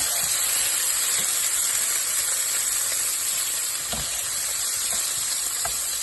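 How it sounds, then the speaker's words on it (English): Octopus stew simmering and being mixed in a hot pot, a steady loud sizzle and hiss with occasional soft knocks of stirring, close and continuous without talk. "I'm going to put the octopus in as well, and I'm going to give that all a nice mix"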